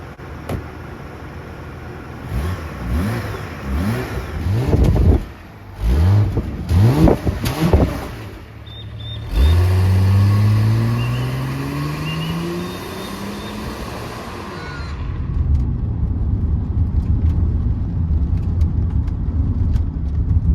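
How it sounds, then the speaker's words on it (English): A Holden Calais engine revs and pulls through the gears while driving, with rising and falling tones from inside the cabin, loud and close, then settling into a steady cruising drone. "Let's hop in, let's take it for a bit of a spin."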